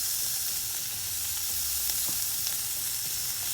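Butter sizzles and crackles steadily in a frying pan while an elk sandwich cooks, a continuous close hiss with small pops and no talking.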